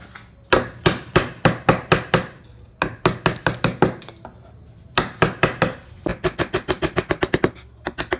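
A small gouge chisel is struck in quick, sharp taps while carving and cleaning the gaps of a wood relief, loud and close, in several bursts with brief pauses, the last run faster.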